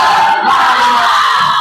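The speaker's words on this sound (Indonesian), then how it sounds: "Pimpin teman-temannya untuk tepuk semangat." A school class shouts and claps together in a spirit clap, a loud, dense burst of young voices filling a classroom for under two seconds.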